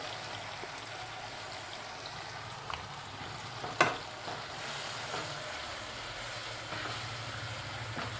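Ground chili, turmeric and coriander spices sauté in a pan with a continuous, even sizzle. One brief metallic clink from a stirring spoon breaks in near the middle.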